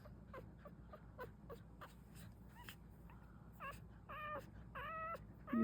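Couple-day-old puppies whimpering during a nail trim, a series of thin high yips and whines up close that grow longer and more insistent toward the end.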